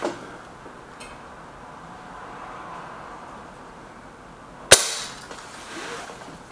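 A single sharp crack from a Lee Enfield Sentry rifle, fired outdoors on a windy day, stands out against a quiet hiss of breeze and fades fast.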